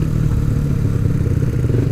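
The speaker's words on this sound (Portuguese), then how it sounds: "andando com essa Twister, eu percebo que o meu escape até aqui não ficou tão ruim, velho" Krypton motorbike exhaust droning steadily in traffic, a loud, continuous low engine rumble with slight clattering ripple throughout and no talking.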